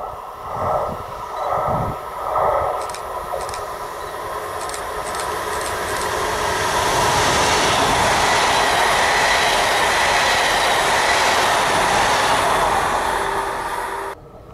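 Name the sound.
train passing on the opposite track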